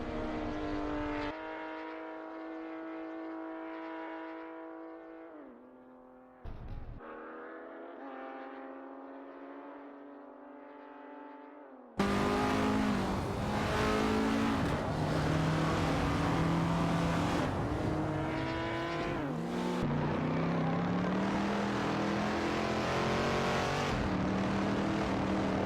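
Race cars in a simulated AI race, engines droning and shifting pitch as they run, first a single car alone, then a louder pack of several cars roaring together through a turn.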